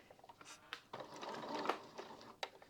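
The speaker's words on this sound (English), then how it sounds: "I'm going to need to do a couple of stitches and then turn." Sewing machine stitching a collar in short bursts, quiet clicking needle strokes and brief whirs with pauses between them, close and faint.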